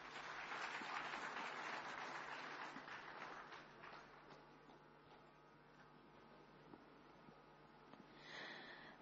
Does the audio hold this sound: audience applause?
yes